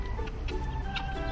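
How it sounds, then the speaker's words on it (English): Loud guinea fowls calling in a farmyard, a dense run of harsh, repeated squawking cries stacked close together and near, with no talk over them. "The guinea fowls are very loud."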